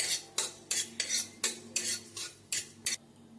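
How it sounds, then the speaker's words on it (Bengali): Cumin seeds stirred in a hot dry wok with no oil, heard as about nine sharp metallic scrapes of a spoon against the pan in an uneven rhythm, close and fairly quiet, with no talk. "জিরেটা একটু ভালো করে ভাজা ভাজা হয়ে যাক।"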